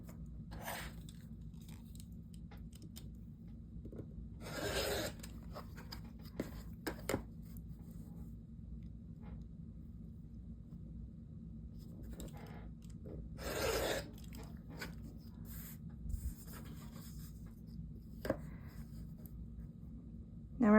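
Scissors cutting paper into half-inch strips, with a few scattered bursts of crisp snipping and rustling separated by long quiet stretches.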